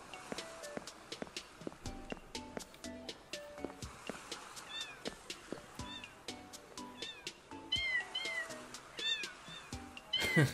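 Cat meowing in the video game Neko Odyssey, several short meows repeating over soft clip-clop steps and game ambience, growing louder and more frequent toward the end.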